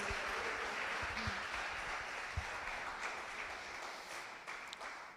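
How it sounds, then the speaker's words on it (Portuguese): A church congregation claps together in a dense, steady wash of applause that fades slightly toward the end, heard at a moderate distance with no clear speech. "Você pode aplaudir Jesus."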